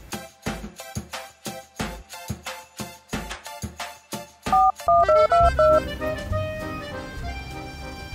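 Mobile phone keypad tones sound as a run of short evenly spaced beeps, with a quicker burst of pitched dialing tones near the end before a ringing tone begins. All of it is close and clear, with no talking.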